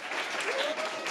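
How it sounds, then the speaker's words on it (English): A round of applause from a live podcast audience in Canmore, brief and dense, with faint voices mixed in underneath. "Let's have a round of applause for Crawford"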